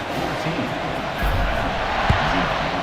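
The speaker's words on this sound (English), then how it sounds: "this crowd now ready to get behind them" Stadium crowd in an NCAA football video game cheering and roaring before a kickoff after an extra point, a steady dense wash of noise with a few louder swells, heard under commentary.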